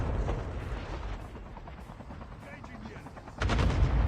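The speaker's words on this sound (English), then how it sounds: "A Cute Kid with a dangerous airstrike." Airstrike blasts and gunfire in a battle royale video game rumble with dense, rolling bursts, ending in a louder, heavier impact, under excited commentary.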